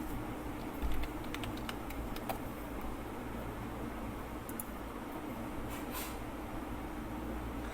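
Faint, scattered clicks of keys tapped on a computer keyboard, a few light keystrokes over a soft steady background hiss.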